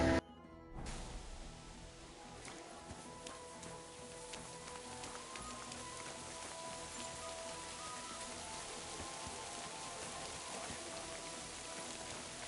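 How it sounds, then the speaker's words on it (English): Steady, dense video game rainfall hisses evenly throughout, a constant wash of drops with faint tonal hum beneath and no voices. "It's a ton of rain."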